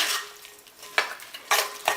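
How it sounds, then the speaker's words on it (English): Pumpkin pie filling with sugars, spices and salt is mixed in a bowl, giving repeated scraping strokes of a utensil against the bowl in uneven bursts, close and fairly loud. "we're gonna mix this until it is smooth"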